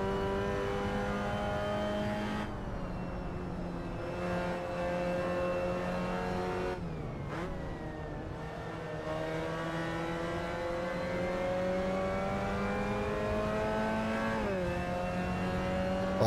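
Mazda MX-5 race cars race at the Nürburgring GT circuit in Assetto Corsa, engines droning loudly and steadily from the driver's seat, pitch climbing through each gear and dropping sharply at shifts, with no talk.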